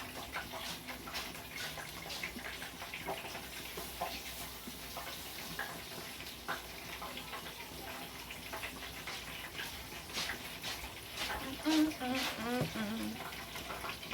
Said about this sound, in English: Some nice caged tomatoes that I'm going to wash off again.